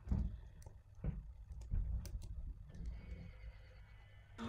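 A horse in the video game Star Stable Online whinnies and snorts amid scattered hoof clops and thuds, fairly close and loud, with no talking.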